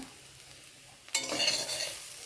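Boiled potatoes in a pan give a quiet, low sizzle that suddenly flares into a loud, bright, crackling hiss as they are stirred, then keeps frying strongly to the end.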